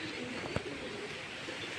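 Young squab pigeons coo softly in a loft, a faint low murmur under steady background hiss, broken by one brief sharp click.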